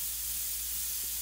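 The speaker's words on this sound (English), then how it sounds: "Don't be afraid to spray and paint what you see." An airbrush sprays black paint in a steady, close, continuous hiss of air and mist, unbroken for the whole moment with no voices.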